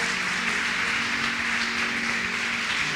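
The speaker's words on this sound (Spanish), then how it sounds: "Dale un fuerte aplauso al Señor" A church congregation applauds, a dense, even wash of many hands clapping continuously for a few seconds at moderate distance, with faint music tones underneath.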